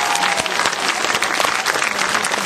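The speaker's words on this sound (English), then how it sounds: "how about we get one more big round of applause for all of our tigers out here at Odin's Tiger Island" Audience at Six Flags applauding for the tigers at Odin's Tiger Island, a dense burst of loud clapping from a crowd, sustained and close throughout.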